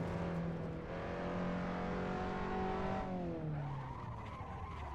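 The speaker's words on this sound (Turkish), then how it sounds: "Bakın şimdi fren yapacağım." A race car without ABS or traction control brakes hard in a sim racing game, engine pitch falling steadily with tire squeal underneath, continuous and close with no talk.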